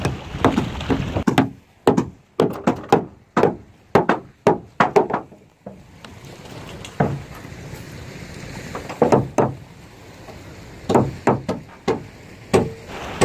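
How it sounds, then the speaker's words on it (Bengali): A boy building a wooden boat on the bank of the Meghna River in Chandpur strikes the wood with sharp chopping knocks, coming in rapid bursts with brief pauses between, close and clear. "নৌকা বানানো হচ্ছে, সে নৌকা বানাইতেছে।"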